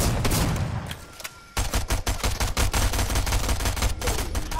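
Rapid video game gunfire in Fortnite, dense bursts of shots crackling close and loud, pausing briefly before a sustained run of fast repeated shots.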